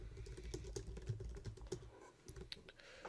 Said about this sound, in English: a new title for it and click Save